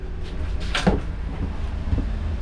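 A plastic toilet lid in a motorhome is handled, giving a couple of light hollow knocks and clacks at close range. The sounds are brief over a quiet background, with no talk.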